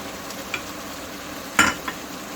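Mutton with gosht masala sizzles softly in a pan while a spoon stirs it, with a few quick scraping strokes, one louder near the middle, over a low steady frying hiss.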